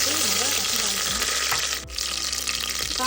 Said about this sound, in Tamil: கடுகு காஞ்ச மிளகாய் கருவேப்பிலை போட்டு நம்ம ரசம் தாளிக்கணும்.